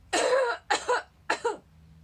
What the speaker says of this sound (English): There will be sniffling and coughing occurring in this video.